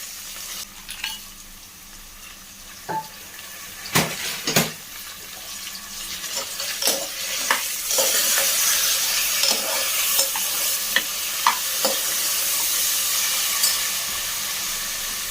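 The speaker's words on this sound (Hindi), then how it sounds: "और सब्जियां भी यहाँ पे हमारी अच्छी तरीके से फ्राई हो चुकी है।" Vegetables for a veg biryani stir-fried in a pan, with loud sizzling and steam under repeated sharp scrapes and clinks of a spoon against the pan, close and without talk.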